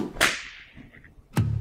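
Two sharp whip cracks, like a horse whip, snap out about a second apart, loud and close with a brief whoosh after the first.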